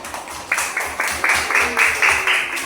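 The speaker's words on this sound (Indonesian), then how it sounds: "Bagus, tepuk tangan buat mereka." Classroom of schoolchildren clapping for a group of classmates, rhythmic bursts of hand claps repeating about every half second, moderately loud and close, with a faint voice underneath.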